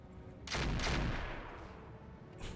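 Weapon fire in the RogueTech mod of the BattleTech video game: a heavy burst of rapid, booming shots lasting about half a second, then a fading rumble, with another hit starting at the end.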